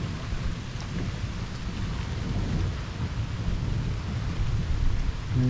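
A severe electrical thunderstorm over Liège, Belgium, brings heavy steady rain with a low, continuous rumble of thunder rolling underneath, heard outdoors as an unbroken dense wash of sound.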